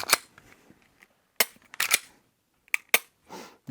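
A Glock pistol trigger resets with sharp, close mechanical clicks in a quiet room. They come in two separated pairs of snaps, each followed by a softer rattle.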